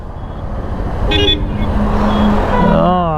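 Heavy road traffic near the Hosur entrance, with a continuous engine rumble close by and car horns honking in two loud bursts, the second a long wavering blare.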